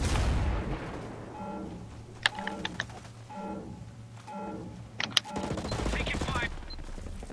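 In Ghost Recon Breakpoint, a grenade detonates amid bursts of gunfire, with several sharp cracks and booms spread across the clip and a short electronic beeping pattern repeating between them.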